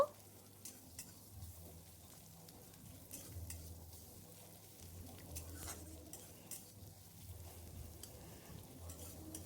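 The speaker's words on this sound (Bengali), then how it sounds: "এরপর এতে আমি 1 চা চামচ জিরে ফোড়ন দিয়ে আর একটা পেঁয়াজ কুচি দিয়ে দিয়েছি ভাজার জন্য।" Chopped onion and cumin seeds frying in hot oil in a pan, a steady close sizzle with soft stirring scrapes and light patter throughout, no voices.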